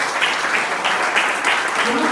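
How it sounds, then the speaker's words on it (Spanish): Audience applause at a mental health week event, a continuous, fairly loud patter of many hands clapping, with faint voices blended in. "aplauso."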